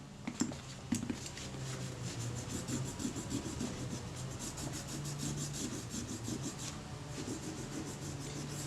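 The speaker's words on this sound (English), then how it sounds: "So I'll give that another scrape" Old adhesive being scraped off a part of a Kodak Retina IIIS camera, a close, continuous rapid rasping scrape with a steady rhythm that runs the whole stretch.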